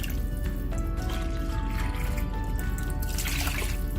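Beef stock pours and trickles steadily into a measuring container, a continuous watery splashing over faint background hum.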